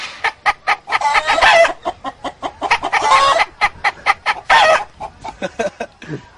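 A man imitates a clucking hen after laying an egg, rapid staccato clucks broken by drawn-out squawking calls, loud and close with no other sounds.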